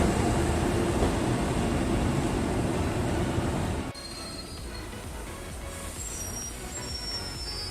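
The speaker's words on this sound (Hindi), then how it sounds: "देख सकते हैं इसमें WAP7 लोकोमोटिव जो है वो लगा हुआ है। और ये रही passenger train Kasganj Kanpur Anwarganj passenger." Kasganj-Kanpur Anwarganj passenger train hauled by a WAP7 electric locomotive, a loud continuous rumble of rolling wheels that drops abruptly partway through to quieter rail noise with faint high squeals.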